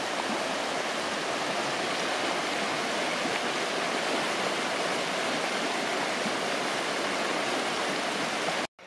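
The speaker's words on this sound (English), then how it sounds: "River's flowing from that direction." Steady rushing of a flowing river on the Appalachian Trail, a constant broadband wash of water close by, with no voices, cutting off abruptly at the end.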